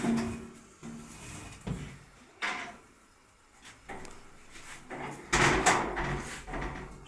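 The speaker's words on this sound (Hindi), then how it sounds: "पीछे वाला दरवाज़ा जो है ना जी इसका बंद कर दो" A back door being shut at a home, heard as a few separate wooden knocks and a sliding, bumping clatter at close range, with a louder burst of handling noise near the end.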